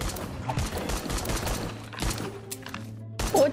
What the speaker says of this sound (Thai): เรายิงปืนนั่นไง